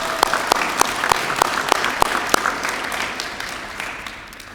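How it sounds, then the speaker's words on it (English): Audience applause at a senior school awards ceremony: sustained clapping from a hall crowd with a few sharp, distinct close claps standing out, holding steady and then tapering off. "please a round of applause for them"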